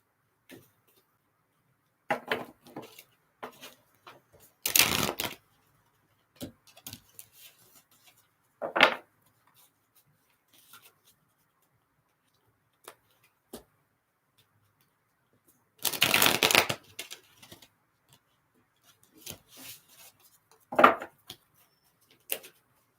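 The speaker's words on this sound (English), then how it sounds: "One more shuffle here for you, Asia, and then I got another card." Tarot cards are shuffled in a few short riffling bursts separated by quiet pauses, with soft taps and handling noises in between, close and fairly faint.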